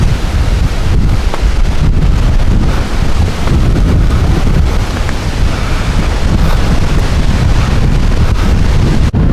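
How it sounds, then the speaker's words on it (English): Strong wind at Holland State Park, Michigan, buffeting the microphone in a loud, constant roar with no let-up and no voices. "It is incredibly windy."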